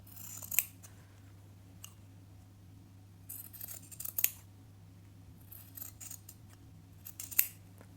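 Scissors snip through excess jersey fabric while a pants pattern is sewn, three crisp close cuts spaced a few seconds apart over a steady low hum, with no talking.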